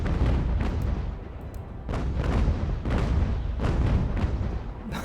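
Ship cannons boom in a naval battle in UGAR, a series of heavy, rumbling shots spaced irregularly at close range, each blast trailing off before the next.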